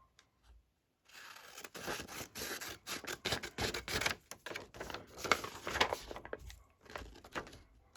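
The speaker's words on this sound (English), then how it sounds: "I might just quickly cut off my white edges." Scissors trimming the white edges off sheets of paper, producing a run of close, crisp snips and paper rustles in an irregular rhythm after a short quiet start.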